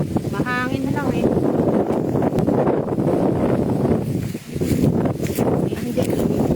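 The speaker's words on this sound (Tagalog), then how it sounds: "Mahangin lang eh." Wind roars outdoors in a loud, constant buffeting rush across the microphone, with people talking throughout underneath.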